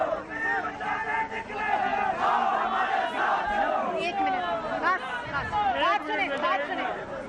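A large crowd at an election rally in Sharda, Azad Kashmir shouts and cheers together, a loud sustained roar of many voices rising and falling in waves.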